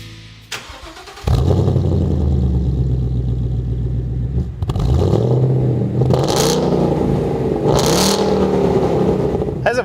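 A 2015-2017 Mustang GT with an MBRP 3-inch aluminized Street Series cat-back exhaust cranks and fires into a loud, deep idle, then is revved twice with rising, roaring blips, close and steady throughout.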